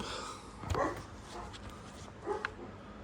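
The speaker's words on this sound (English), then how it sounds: "Dog is barking." A dog nearby gives two short barks or yips, a few seconds apart, faint over low background noise during work on a Volvo XC90 air tube.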